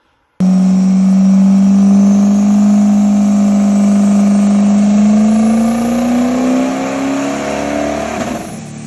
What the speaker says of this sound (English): so we load up on the dyno. We made a fuel-only run.